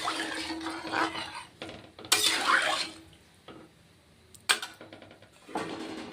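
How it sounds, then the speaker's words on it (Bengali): A metal lid is set onto a cooking pot of potato, pointed gourd and paneer curry, giving a few close clatters and scrapes among quieter kitchen handling sounds. "এবার ঢেকে দেব ছয় সাত মিনিট মতো"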